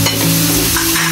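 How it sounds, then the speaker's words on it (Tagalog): Chopped tomato hits garlic sautéing in a pan and gets stirred, a loud, close, steady sizzle with scraping of the utensil, alone without any voice. "isunod na natin ang ating kamatis"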